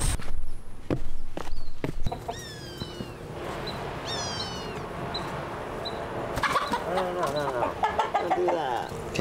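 A chicken with a broken leg clucks and squawks in a string of sharp calls while being caught at a backyard coop, mixed with footsteps, rustling and people talking.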